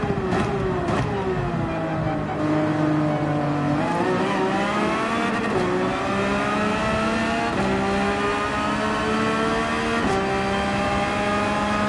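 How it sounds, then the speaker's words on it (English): A race car in Gran Turismo 7 at the Red Bull Ring holds full throttle, its engine a loud, continuous high-pitched roar that climbs steadily through the revs with brief dips at gear changes. "I need to full throttle all the way through here"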